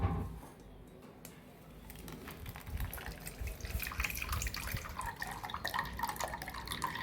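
Blended tender coconut water being poured and strained through a filter for payasam, a steady close trickle and drip of liquid with soft splashing that builds slightly toward the end.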